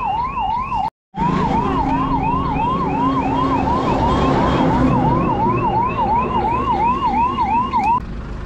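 A highway ambulance of the NHA 1033 emergency service sounds its siren in a loud, continuous rising-and-falling wail that repeats steadily, with one brief dropout near the start and a road-traffic rumble underneath.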